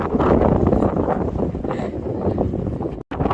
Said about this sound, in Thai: โอ้ยลมเยอะ ลมแรง